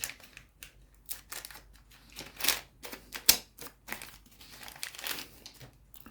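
A USB Type-C cable is freed from its packaging out of a TCL Tab 10 FHD tablet box, with close, irregular crinkling and rustling of plastic and a few sharp snaps. No voice is heard.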